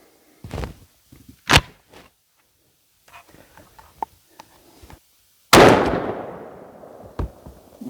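A single loud shotgun blast from an ATA turkey shotgun firing 3.5 inch number 6 shot Kent shells outdoors, a sharp boom with a long rolling echo, preceded by a few handling thumps and clicks and followed by one more knock.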